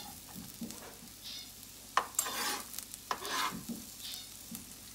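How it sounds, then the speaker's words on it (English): One chopped onion hits a pan and fries with bursts of sizzling, punctuated by sharp scrapes and clatters of stirring, fairly close with no talking. "I'm gonna add my one chopped onion in here"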